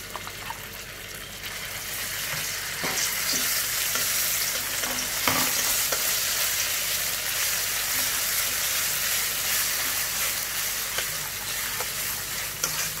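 Ground spice paste sizzles steadily in a hot pan for a beef stir-fry with lime leaves, with a constant close frying hiss and a few scraping stirs, no voices.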